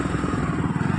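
A brief burst of close road noise in a heavy traffic jam, with a motorcycle engine puttering and rumbling amid passing vehicles.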